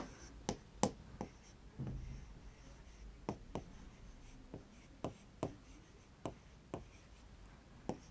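A teacher writes a maths formula on a board during a statistics lesson, making a series of sharp taps and short scratches at irregular intervals in a quiet room.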